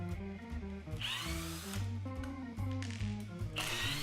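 A power drill whirs in short bursts, its pitch rising and falling as it drives screws into under-floor cover strips, with a few ratcheting clicks between runs.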